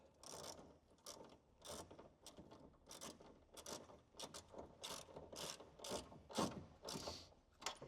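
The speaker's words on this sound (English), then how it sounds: "Swap over to my Allen headed socket, 10mm spanner on the back, and I'm going to tighten those up." A socket ratchet fitted with an Allen-headed socket tightens bolts on a roller shutter bracket for a Ford Ranger, rapid repeated ratcheting strokes in an even rhythm, close and clear with no talking.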